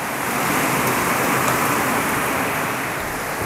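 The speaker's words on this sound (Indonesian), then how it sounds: "Hujan banget, hujannya deras banget." Heavy rain pours steadily outside a modern tropical house in Bekasi, near the carport, a dense, even wash of noise that stays loud and constant throughout with no talking.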